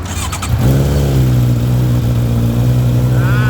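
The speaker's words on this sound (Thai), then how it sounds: "มาฟังเสียงท่อฟูซิสเต็มกันหน่อยดีกว่า" A Honda CB650F motorcycle with a loud aftermarket full-system exhaust starts and settles into a deep, throaty rumble, holding a steady low growl close by.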